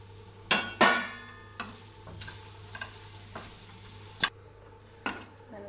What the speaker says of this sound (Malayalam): അതിലേക്ക് ഇട്ട് കൊടുത്ത് നന്നായിട്ട് മിക്സ് ചെയ്തെടുക്കാം